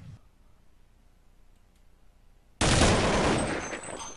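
Gunfire from the Counter-Strike video game on the de_nuke map erupts suddenly after a quiet stretch, a loud dense burst of shots that then continues at a slightly lower level.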